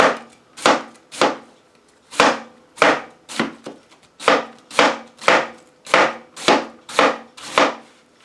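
A vegetable cleaver shreds cabbage thin on a board for sauerkraut, giving a steady run of about fifteen crisp, close chopping strikes at an even rhythm, with no talking.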